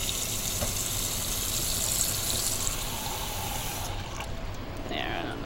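A kitchen sink tap runs steadily with a constant hiss and splash, close by, then the flow changes briefly near the end as a voice speaks over it.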